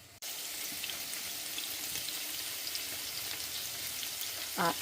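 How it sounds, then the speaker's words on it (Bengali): Chopped onion and chili dropped into hot oil on a stove burner, an abrupt start to a steady, bright sizzling hiss that continues evenly, close by, with a brief louder crackle near the end. "এক চুলায় তেল দিয়ে পেঁয়াজ কুচি আর মরিচ কুচি দিলাম"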